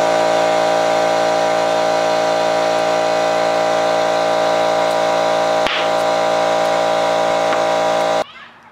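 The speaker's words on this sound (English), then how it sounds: "you heard that very loud pop above the sound of my air compressor" An air compressor runs loud and steady while inflating a tubeless bicycle tire on a Stan's rim, with one sharp pop as the bead seats, before the compressor cuts off near the end.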